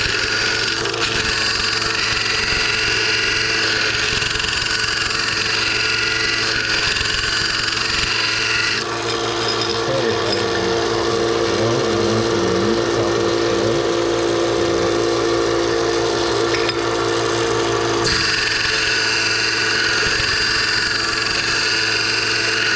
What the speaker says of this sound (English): I think I want to grind the top of the blade down a little bit more if I can